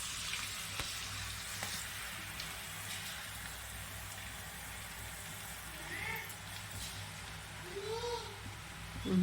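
Murukulu dough frying in hot oil for Telangana-style Sankranti snacks, a steady soft sizzle and crackle throughout, with people talking over it.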